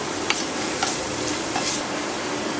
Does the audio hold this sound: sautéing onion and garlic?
yes